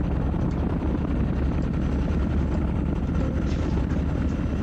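Attacking helicopters in the video game Fulda Gap '85 make a continuous, loud, dense rotor rumble and drone that holds steady throughout, with no voices.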